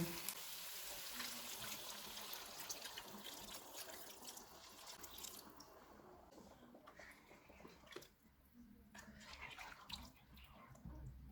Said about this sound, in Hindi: इनमें 3 कप पानी डालेंगे